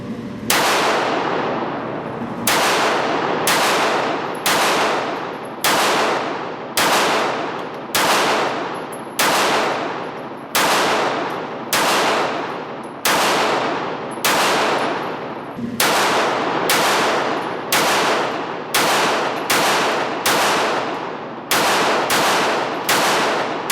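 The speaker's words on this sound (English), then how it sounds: "I want to show you a couple of shots so maybe you can see just how that sight picture looks while I'm at the range." Pistol shots from a CZ 82 at a shooting range ring out about twenty times in steady succession, each sharp crack decaying quickly, loud and close with no talk.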